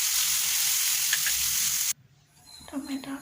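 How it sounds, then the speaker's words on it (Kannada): Tomatoes fry with onion and chilli in a hot pan for bisibelebath, giving a loud steady sizzle for about two seconds before it cuts off, followed by quiet kitchen sounds and a voice. "ಟೊಮೆಟೊ ಹಾಕ್ಕೊಳ್ತಾ ಇದ್ದೀನಿ."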